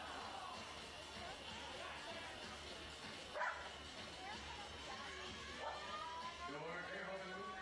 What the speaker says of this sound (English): If you can hear dogs barking in the background,